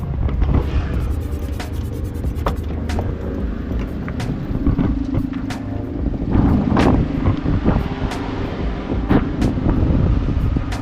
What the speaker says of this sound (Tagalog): tapos ang lakas pa ng hangin